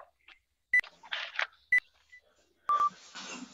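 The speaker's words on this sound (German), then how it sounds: "So, ich stelle den Timer." A workout interval timer gives a few sharp, separate electronic beeps, close and loud, with short bursts of other noise between them, during a home HIIT session.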